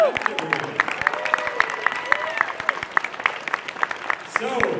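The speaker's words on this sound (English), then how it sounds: "Round of applause for Team." A convention audience at a pony fan game show gives a round of applause, with dense, steady clapping and some cheering and whoops throughout, and voices in the crowd mixed in.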